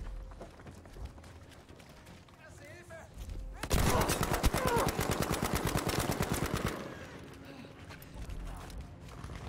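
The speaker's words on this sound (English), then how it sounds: "Who the hell was that guy shooting at?" Gunfire in the video game Battlefield 5, a sustained burst of rapid automatic fire lasting about three seconds, loud against a quieter background of game ambience and scattered shots.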